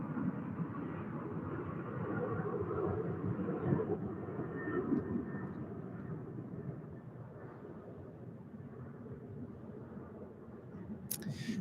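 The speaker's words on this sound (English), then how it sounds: "departing off of the east runway is not something we see every day" A jet aircraft departs off the east runway at Salt Lake City International, a steady distant roar rumbling on throughout, fading slightly toward the end.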